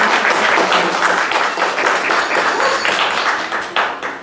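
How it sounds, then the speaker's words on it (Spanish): An audience at a university law faculty applauds a teacher, many hands clapping densely and steadily at close range, a loud, sustained ovation that tapers slightly near the end. "Demos un aplauso a la maestra Andrea."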